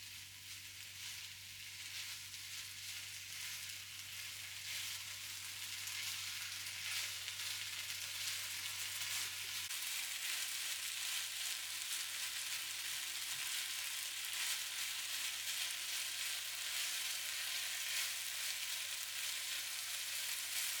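Chicken breast fries in a pan, giving a continuous, even sizzle that holds steady throughout with a low hum beneath and no voices.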